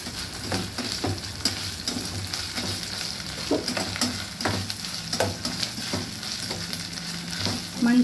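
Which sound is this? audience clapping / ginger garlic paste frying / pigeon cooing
ginger garlic paste frying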